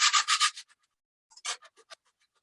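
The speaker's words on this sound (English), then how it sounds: "This one here, I'm using the big grater." Lemon zest rubbed over the large holes of a box grater, a burst of four or five quick close scraping strokes, then a pause, then a few more strokes, with no talk.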